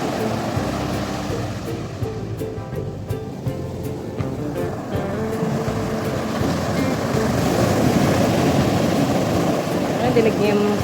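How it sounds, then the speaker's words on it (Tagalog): Steady rushing surf of ocean waves in Bali, Indonesia, a continuous broadband wash that slowly builds in loudness, with voices faintly underneath. "Dinig niyo yung sounds ng wave niya."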